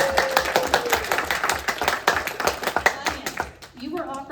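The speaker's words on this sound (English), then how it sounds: "Audience, you may reward them with a round of applause." Audience at a county council candidates forum giving a round of applause, a fairly close burst of clapping that tapers off, followed by a voice starting to speak.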